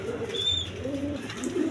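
Pigeons at a pigeon sale, including the round rasgolla breed, coo softly in low, repeated calls over quiet background noise with no talk.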